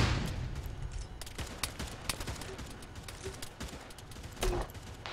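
Rapid gunfire from a rifle in the Arma 3 military shooter, a dense scatter of sharp shots and bursts at moderate distance with some echo, with no talking heard.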